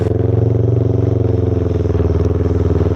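A motorcycle ridden at light throttle during a beginner riding lesson, its engine a steady, close, loud putter with an even pulsing rhythm and no talking.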